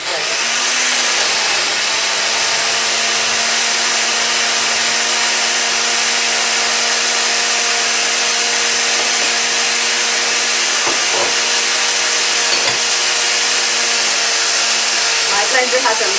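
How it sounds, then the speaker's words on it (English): Blender liquefying a green smoothie, a loud steady high whir with a constant motor hum, running continuously close by with a few small knocks near the end. "It's good to make sure that it blends for a number of minutes so that you can really get it blended up well."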